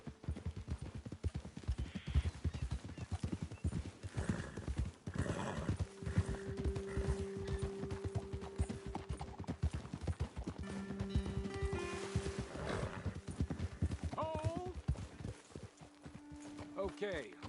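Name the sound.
horse hooves in a video game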